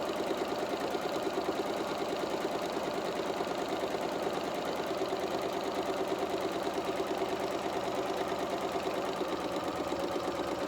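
A sewing machine runs rows of gathering stitches on a doll's skirt, a fast, even, continuous mechanical whir and rapid needle ticking that holds steady and close throughout.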